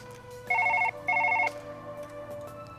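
A telephone rings in Surgeon Simulator 2013: two quick electronic trilling bursts, each about half a second long, separated by a short gap. They sound clear and fairly close over a low steady game hum, with no talking.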